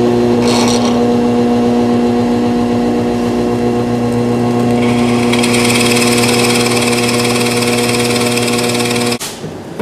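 A power saw cuts wood during the repair of an old rocking chair, at close range. Its motor drones with strong steady harmonics, a harsher cutting whine rises midway, and then it cuts off abruptly near the end.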